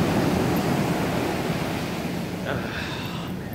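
Ocean waves roll at the seashore at high tide, a steady, loud, broad wash of surf, with voices speaking faintly near the end.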